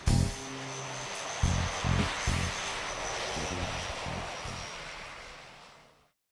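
A C-27J Spartan military transport aircraft at an air display gives a continuous engine roar with pulsing low propeller drone, loud throughout and fading out near the end.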